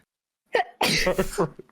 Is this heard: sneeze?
yes